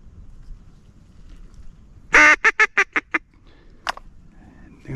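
Ducks call nearby during a walk-in teal hunt on Louisiana public land: a quick run of five or six loud, evenly spaced honking quacks, then one more call after a pause, over quiet outdoor background.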